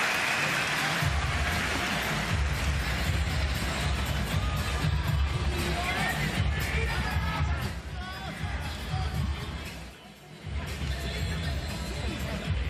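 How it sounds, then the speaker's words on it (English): A jam-packed arena crowd roars and cheers steadily at the Toyota Arena during a kickboxing fight between Takuma Inoue and Tenshin Nasukawa, a dense loud wall of voices that dips briefly near the end before swelling again. "Jam-packed crowd"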